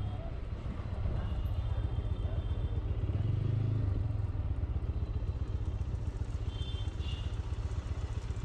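GPX Demon GR165R motorcycle ridden through city streets on a mileage test, its engine drone steady and close throughout with a rough low throb, a brief swell mid-ride and road rumble, no talk.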